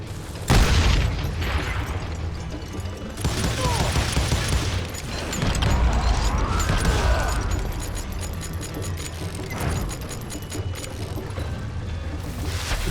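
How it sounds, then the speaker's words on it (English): Dynamite blasts in the Western shooter Call of Juarez: Gunslinger: several loud, booming explosions with rumbling tails and crackling debris, spaced irregularly across the stretch, with a brief shout in between. "I got a lot more dynamite than you!"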